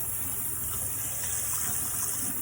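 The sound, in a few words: water rinsing out a container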